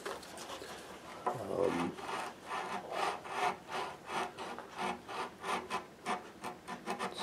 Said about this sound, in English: Using sanding paper on a stick to try to get all the little scratches out.